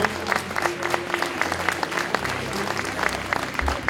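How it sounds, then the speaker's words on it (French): Audience applause for a contestant at a beauty pageant, steady dense clapping from a crowd with music and some voices underneath. "Sous vos applaudissements s'il vous plaît, on nous encourage."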